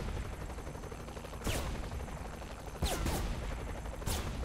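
Video game gunfire aimed at a vehicle driver crackles in a few short bursts at irregular intervals over a steady background rumble.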